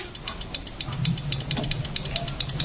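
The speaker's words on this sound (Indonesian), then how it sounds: "jika bunyi cetik-cetik-cetik kayak gini nih" The starter relay on a Yamaha Vixion motorcycle with a dead starter and electrical fault clicks rapidly and repeatedly, a close, fast, even chatter that runs without a break over a low hum.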